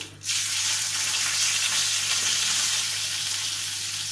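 Curry leaves hit hot oil seasoned with asafoetida for cashew upma and burst into a loud, steady sizzle. The hiss starts abruptly and keeps crackling evenly, with no voices.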